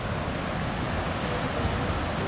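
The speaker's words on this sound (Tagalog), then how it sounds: "dugsong-dugsong ang alon oh" Sea waves in open water near a small boat, heard as a loud, continuous rushing wash with no clear breaks, close and dense, with no voices.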